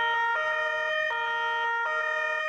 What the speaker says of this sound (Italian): Il suono delle sirene delle forze dell'ordine, polizia, carabinieri e polizia locale